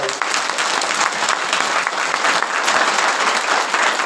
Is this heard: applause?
yes